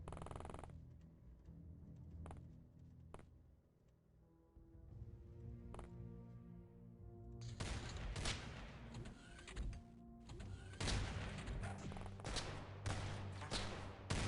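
Gunfire in the XCOM video game comes as sharp isolated shots early on, then dense, loud bursts of rapid firing that fill the second half, with no voices.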